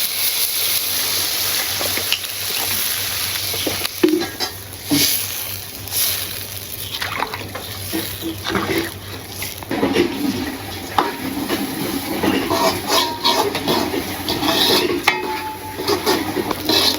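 Oil heats and fries in a pan as chicken and khichuri are cooked, with a steady hiss and sizzle under scattered stirring scrapes and clinks of a utensil against the pot.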